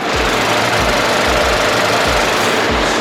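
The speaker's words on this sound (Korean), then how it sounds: "영상으로 엔진 소음 한번 담아보도록 하겠습니다" Gasoline engine of a 2019 four-wheel-drive SUV idling with the hood open, recorded close up: a steady, even rhythmic thrum with a soft ticking pulse and no voices.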